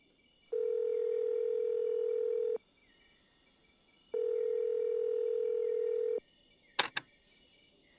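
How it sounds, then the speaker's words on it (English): Phone call ringback tone after pressing send: two long, steady electronic tones separated by a pause, clear and close, followed by a few brief clicks. "Harp pressed send on the phone."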